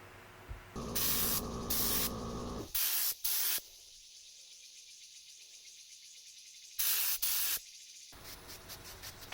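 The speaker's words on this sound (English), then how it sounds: "HVLP gun. It's a very well-made gun, and I really enjoy using it." An HVLP spray gun applying paint to an RC plane gives several loud hissing bursts, some long and some short, separated by quiet pauses with faint background hum.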